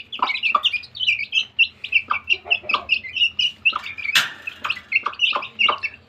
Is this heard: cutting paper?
no